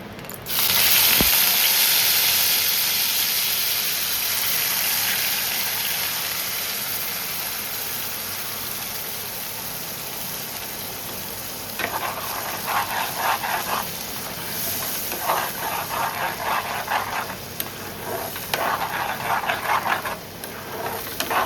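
Spice paste for thukpa hitting hot oil in a pan, a loud sizzle that settles into a steady frying hiss, with bursts of stirring scrapes later on, close by and without talk.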